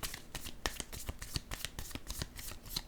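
Playing cards being shuffled and set down in a run of crisp, rapid riffling flicks and light slaps, close and fairly quiet, with no voices.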